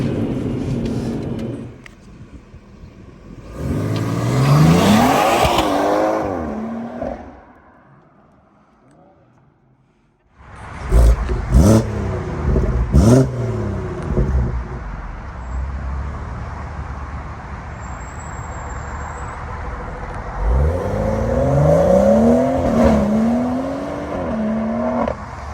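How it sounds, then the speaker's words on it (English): A tuned 450bhp BMW M140i with a full MST intake accelerates hard, its engine rising in pitch through gears with loud intake roar, easing off briefly and pulling again; people talk over parts of it. "you're probably hearing some more intake noise. This car does have the full MST intake."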